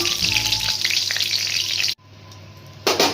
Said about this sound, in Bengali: প্রথমে তেলটা দিয়ে দিলাম, ফোড়নে তেজপাতা, শুকনো লঙ্কা,